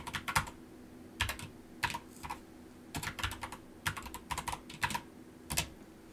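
Keys clatter in quick irregular bursts as commands are typed on an Amstrad CPC computer keyboard, close and clear with short pauses between flurries of keystrokes and no talking.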